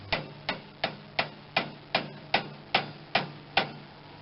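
A heavier hammer strikes the old, grease-seized steering spindle on a 1986 John Deere 185 lawn tractor: eleven sharp metallic blows at a steady, fairly quick rhythm, each with a short ringing decay, with no talking.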